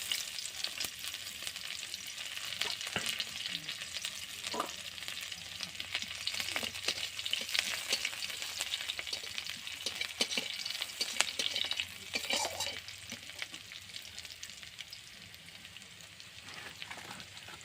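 Onions sizzle and crackle in hot oil in a pan over a village kitchen fire, a dense, steady frying hiss broken by scraping stirs, close and moderately loud throughout.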